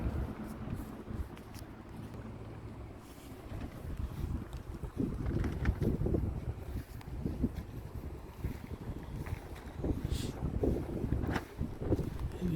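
Gusty wind buffets an outdoor greenhouse construction site where a front post had to be replaced, a steady rushing roar with microphone buffeting that swells louder in the second half, with no voices.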